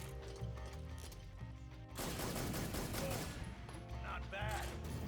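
Gunfire in the Metal Gear Solid 3 video game plays as dense rapid bursts under a continuous game soundtrack, loud and sustained after a quieter opening stretch.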